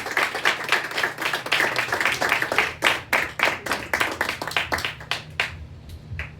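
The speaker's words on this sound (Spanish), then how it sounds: "Dar un aplauso al Señor," A church congregation applauding together, a dense run of sharp claps that turns into a rhythmic, evenly spaced beat before thinning to a few scattered claps at the end.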